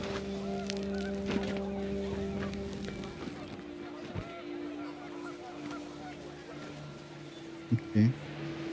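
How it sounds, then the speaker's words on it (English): Panicked geese honk in the video game What Remains of Edith Finch as wind picks up, with steady tonal calls over a windy backdrop and a couple of sharper honks near the end. "The wind picked up, and panicked geese appeared and quickly went."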